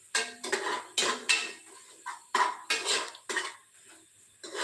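Biryani masala being mixed in a metal pot, a ladle scraping and clanking against the sides in a string of sharp, close strikes with short pauses between them, no voices.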